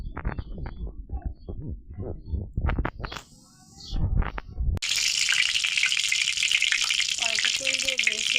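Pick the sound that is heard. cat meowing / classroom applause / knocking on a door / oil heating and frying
oil heating and frying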